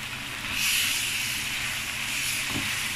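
Seasoned shawarma meat is stirred in a hot pan, giving a steady close sizzling hiss that swells after a moment and holds, with a brief scrape of the spoon near the end and no talking.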